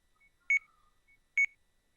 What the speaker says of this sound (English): Unsurprisingly, his alarm began to sound.